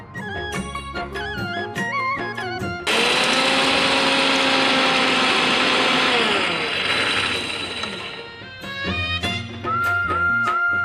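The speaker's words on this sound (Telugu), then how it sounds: "మిక్సీ పట్టేసుకుందాం." A mixer grinder whirs loudly as it pulverises roasted urad dal, a continuous roar lasting about five seconds, with light music playing before and after.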